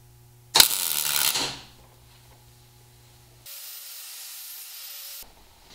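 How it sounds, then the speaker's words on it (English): Welding in a home garage during a car wiper motor upgrade gives a sharp, loud burst of crackling hiss that fades after about a second, then a steadier, quieter hiss runs for nearly two seconds. "We're welding."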